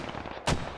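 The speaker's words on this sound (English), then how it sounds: "Yo, perfect mortars. Perfect mortars. Keep sending them." A single sharp mortar blast goes off in a military shooter game, a short loud boom bursting out over a steady background of game noise.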